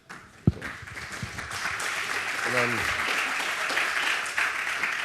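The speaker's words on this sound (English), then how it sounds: "let's give another round of applause" A conference audience applauds after a talk on mobile development tools, a steady, moderately distant wash of clapping that follows a single spoken phrase and a sharp thump.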